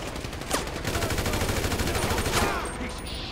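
Gunfire rings out in Grand Theft Auto V, dense and continuous with a couple of sharper cracks standing out above a noisy game-action backdrop.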